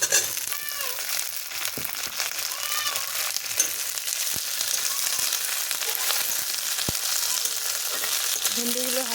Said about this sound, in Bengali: এখন আমি এর মধ্যে ভেন্ডিগুলো দিয়ে দেব।